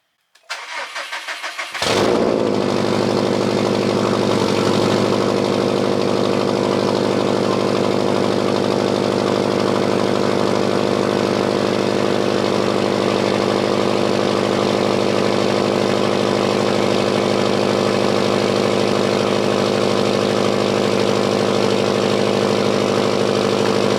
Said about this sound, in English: So let's go ahead and get that cold start for you.